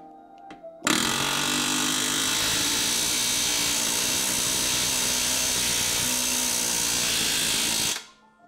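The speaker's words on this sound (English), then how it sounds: "the rivets I'm using are these solid aluminum that are going in there" A power tool setting solid aluminum rivets into a hinge on a battery box lid for an airboat build, one loud, steady whir running unbroken for about seven seconds after a brief start, then stopping abruptly.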